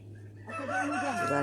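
A rooster crows nearby at a chicken roost, its wavering, drawn-out call rising and falling over a steady low hum.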